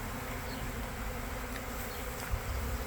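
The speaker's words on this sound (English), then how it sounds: "there's bees in it, and they're going into the hive" A dense, steady buzz comes from a swarm of bees flying around a hive set up near a wood pile outdoors, their drone continuous and close, with no voices.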